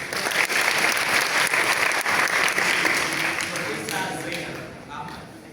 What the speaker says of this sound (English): so clap for the professor